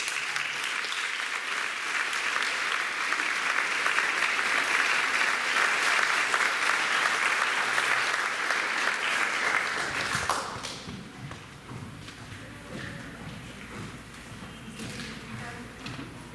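Audience applause at a high school senior scholarship awards night, a steady wash of clapping from a full room lasting about ten seconds before dropping to scattered claps and quiet room noise.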